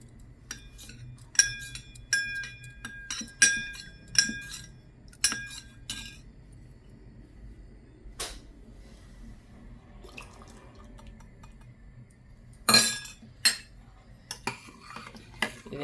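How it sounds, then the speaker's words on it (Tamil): A spoon stirs custard powder into milk in a bowl, making repeated close clinks and scrapes in an uneven rhythm, with quieter gaps between bursts of stirring. "அங்கே இப்போ நம்ம கஸ்டர்ட் பவுடரை பாலில் ஊற்றி கிண்டலாம்."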